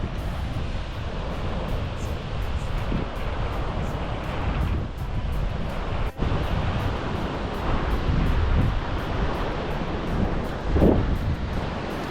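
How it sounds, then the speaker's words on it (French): Ocean surf rolls onto a beach in Portugal in a continuous wash of breaking waves, mixed with gusty wind buffeting the microphone, with no talking. "En vrai ça va, il y a des bonnes vagues."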